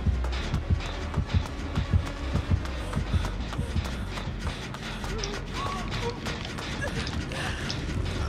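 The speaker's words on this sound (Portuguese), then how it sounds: "Esse trem tá atravessando a parede ali" A train in the video game Dead by Daylight rolls through a wall, making a rhythmic run of clanking, creaking mechanical knocks that stays fairly loud and steady throughout.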